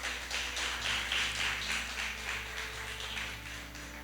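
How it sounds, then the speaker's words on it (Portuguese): A church congregation applauds in steady, dense clapping that sounds fairly distant and soft, with no talk over it. "Vamos aplaudir o Senhor Jesus bem forte."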